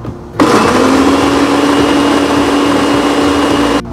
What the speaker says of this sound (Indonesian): Nah, ini kita blender.